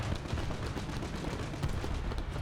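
Tank gunfire from the War Thunder video game, British tech tree battle: dense crackling bursts of distant shots and explosions roll on continuously, like fireworks.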